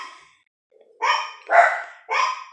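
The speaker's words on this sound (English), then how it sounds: "And those are my dogs." Dogs barking nearby in a home, three loud, evenly spaced barks after a faint trailing sound and a brief pause, with no one talking.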